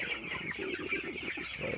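Chickens clucking on a poultry farm, a brief run of quick, close, rhythmic clucks over a soft background hum, with no voices.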